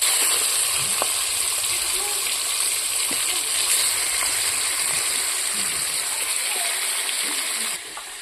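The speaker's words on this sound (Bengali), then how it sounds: "এখন এই তেলে মাংস দিয়ে দিব" Meat frying in hot oil left over from frying potatoes for a chicken curry, a dense continuous hiss and crackle, close and steady throughout, dropping slightly at the very end.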